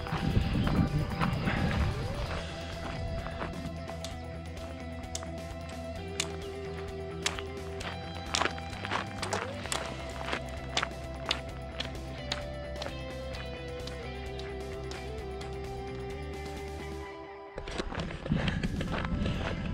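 Horses in a valley pasture walking and trotting along a path, their hooves making a steady clip-clop of sharp taps over a continuous droning tonal background, with no talking.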